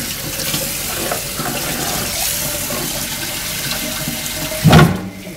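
Water runs from a tap into a Blanco Silgranit granite composite sink, a steady splashing rush throughout, ending in a brief louder splash or clatter near the end.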